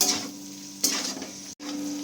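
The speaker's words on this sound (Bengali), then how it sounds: "সব কিছু একসাথে ভালো করে একটু হালকা ফ্রাই করে নেব।" Capsicum and slit green chillies fry in a pan with a soft, steady sizzle and brief stirring clinks, close by and without talk.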